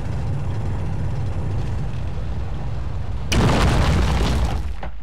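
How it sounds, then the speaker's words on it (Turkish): A sustained roaring rumble from the video game Space Engineers swells abruptly into a louder explosive blast with crackling debris, continuing loud and unbroken before tapering at the end. "şu anda var ya patlama oluyor"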